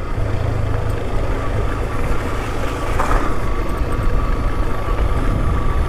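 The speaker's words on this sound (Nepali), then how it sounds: "खोलामा पनि बाइक हाँक्न पाइयो" Yamaha FZ V2 motorcycle riding through a shallow river on a rough rural route in Sarlahi, Nepal, its engine droning steadily and loudly throughout with water and road noise, no talk.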